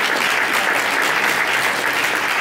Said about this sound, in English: You all should clap for that.